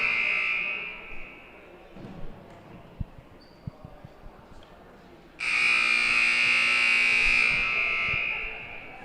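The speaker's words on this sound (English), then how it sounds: "Buzzer sound, officials are telling the team it is time to get back to play." A basketball game buzzer in a college gym blares as a loud, sustained electronic tone for several seconds, after a stretch of quieter crowd noise and scattered court thumps.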